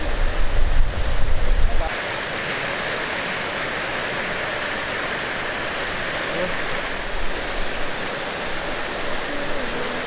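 A river swollen after a typhoon rushes strongly past a riverside cycling route, a steady broad roar of flowing water heard close, with a brief low rumble of wind or handling at the start.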